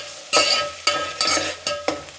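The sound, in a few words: adding raw mango to Kerala fish curry pot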